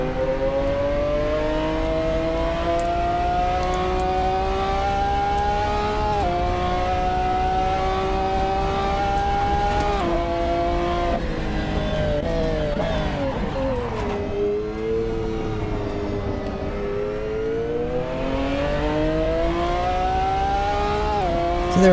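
SuperGT race cars in the Assetto Corsa racing game, a loud continuous engine whine rising and falling through gear changes as the cars lap at speed, with no talking over it.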